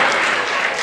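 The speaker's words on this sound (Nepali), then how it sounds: "त्यसकारण त्यताकोले ताली पड्काउनुहुन्छ, यताकोले एकछिनपछि ताली पड्काउनु।" Audience clapping at a Nepali political speech, a dense steady burst of applause that runs the whole moment without letting up.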